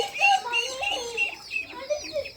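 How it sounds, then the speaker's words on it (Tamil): Chicks and young fowl at a bird enclosure in Yelagiri chirp and cluck in a busy, overlapping chatter of short high calls, fairly close, with no talk. "கோழி குஞ்சுங்கெல்லாம் சூப்பராக இருக்குது பாருங்கள்"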